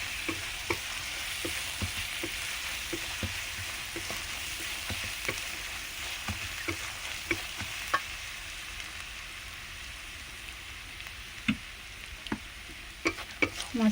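Garlic and dry chili powder fry in oil with a steady, close sizzle and scattered light ticks and pops from stirring. The sound runs without a break and no one speaks.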